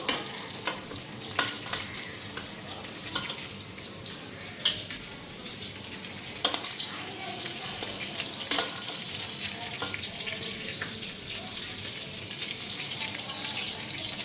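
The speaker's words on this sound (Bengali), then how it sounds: "পটলগুলিও ভাজা হয়ে গেছে" Sliced pointed gourd (potol) fries in a pan with a steady sizzle, while a spoon stirs it and knocks against the pan in scattered clinks throughout.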